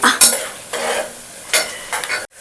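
Chopped onions sizzle in hot oil for an eggplant curry while a spoon scrapes and stirs them in bursts, close up and fairly loud, with no voices.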